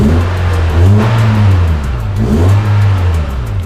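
A Honda Civic VTiS ES3 engine runs close by and is revved twice, rising and falling in pitch, with a steady smooth hum between the revs and no talking.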